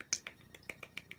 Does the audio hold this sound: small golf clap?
yes